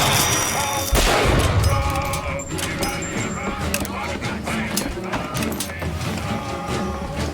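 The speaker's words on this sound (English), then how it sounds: "those sniper shots hurt" Sniper rifle fire in the shooter BioShock Infinite, heard as repeated sharp cracks and blasts within a constant wash of combat noise and game sound, loud and continuous throughout.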